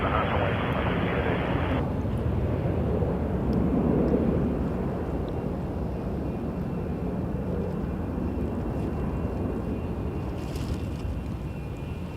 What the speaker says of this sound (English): After this, there's an Embraer ERJ 145 headed to Philadelphia, and that's Piedmont Airlines for American Eagle.